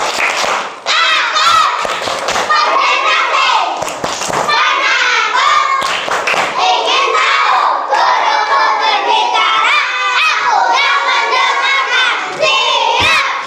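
Schoolchildren in a classroom do a concentration clapping routine, chanting and shouting loudly together between bursts of rhythmic claps, close and energetic throughout.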